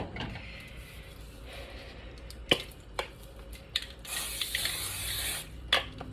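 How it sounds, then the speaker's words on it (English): A short hiss of aerosol spray near the end, among soft kitchen clatter and a couple of sharp clicks against a low background hum. "Quick little spray."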